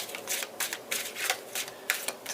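Tarot cards are shuffled by hand in a quiet room: a series of crisp, papery riffling bursts in an uneven rhythm, close to the microphone.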